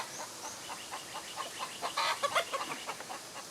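A farm rooster clucks in a series of short, rapid bursts that build to a louder cluster midway, close and clear over a quiet background with no talk.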